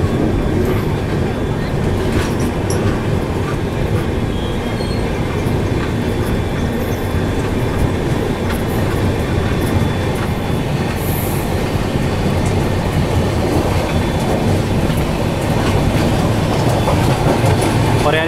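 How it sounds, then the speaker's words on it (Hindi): A double decker Indian Railways train pulls out of a station, its steady rolling rumble, clickety-clack of wheels and occasional faint squeal filling the space continuously and close by, with no talk over it. "2 मिनट रुकी और we are ready to depart, और I should say we are departing विनियम बाड़ी"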